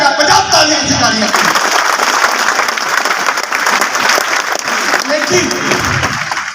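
Loud, dense applause from a seminar audience in Hazaribagh fills the space continuously, a steady wash of many hands clapping at once that stays strong throughout.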